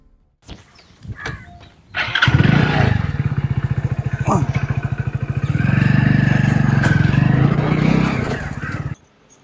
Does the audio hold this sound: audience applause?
no